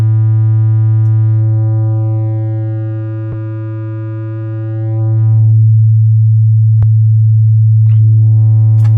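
A steady low sine tone plays through Logic Pro's Chromaglow saturation in modern tube mode with drive raised, its added upper harmonics fading away midway and then returning, with a few sharp clicks along the way.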